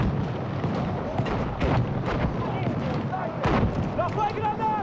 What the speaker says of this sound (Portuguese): Já foi granada! Cuidado!